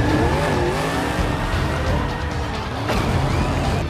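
Toy race car sound effect, a steady revving engine whine with tire-squeal-like sweeps, loud and continuous throughout, close and alone with no talk.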